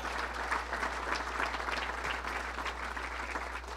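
An audience applauds Congressman Peter King at a speech event, a steady wash of many clapping hands over a low constant hum, without pause.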